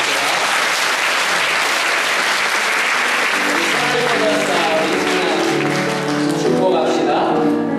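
A Korean Presbyterian church congregation applauds after an infant baptism, a loud, continuous wash of clapping close by, with soft musical tones starting to rise underneath partway through.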